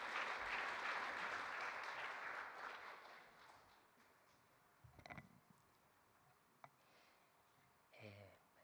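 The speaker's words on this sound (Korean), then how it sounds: "따뜻한 박수로 환영해 주시기 바랍니다" Applause from a church congregation welcoming their departing church leader at a farewell address, a broad steady wash of clapping that fades over the first four seconds, followed by a few faint knocks and brief rustles.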